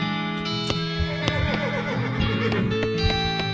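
A horse whinnies in the Western-themed video game West of Loathing, one loud, close, high neigh that trembles and falls away over a few seconds.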